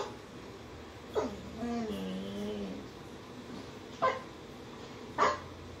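A person imitates a pointer dog with their voice, starting with a drawn-out whining yelp followed by a few short, fairly quiet bark-like bursts.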